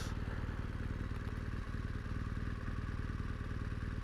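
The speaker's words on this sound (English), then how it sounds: "this motorcycle, the engine is a 2-cylinder engine, and the cylinders are firing opposite of each other" A BMW R1200GS opposed-twin motorcycle engine drones steadily and loudly throughout, with a low, even pulsing beat as the bike rides along.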